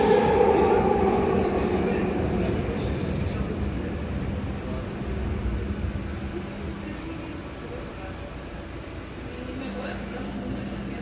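A SkyTrain Expo Line car in motion, its loud rumbling roar filling the space as a steady wash of wheel and motor noise that eases slightly partway through, with a voice talking over it.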